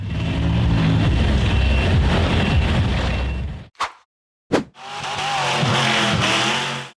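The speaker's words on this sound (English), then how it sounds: "The dark gray steel frame buggy hit the throttle hard and accelerated up a steep dirt hill" A dark gray steel-frame off-road buggy roars at full throttle up a steep dirt hill, engine loud and close, then two sharp pops break a brief silence before the engine revs hard again.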